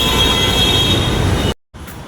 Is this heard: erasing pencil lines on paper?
no